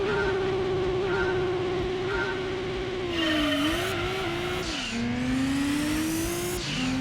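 Race cars in Gran Turismo 2 accelerating off the start of a tuned turbo car cup race, a loud close engine drone climbing and dropping through gear shifts as several cars roar together, continuous and alone.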